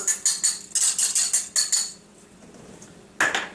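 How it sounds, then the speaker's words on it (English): A whisk clatters rhythmically against a bowl, mixing salt, Parmesan, parsley and black pepper: quick bursts of clinking strokes, a short quiet gap, then another burst, close and fairly loud. "Let's just whisk this all together, incorporate everything real nice."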